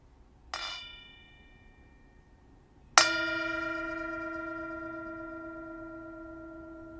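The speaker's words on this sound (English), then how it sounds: "This is our mindfulness bell, and we're invited to enjoy the sound of the bell." A mindfulness bell is struck twice, a short light strike first and then a full clear ring a couple of seconds later that sustains and slowly fades, alone in a quiet room.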